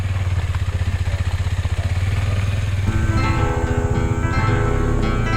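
A motorcycle rides along a jungle highway in Borneo, its engine a steady close drone with a rhythmic throb that turns rougher and louder partway through, with no voices heard.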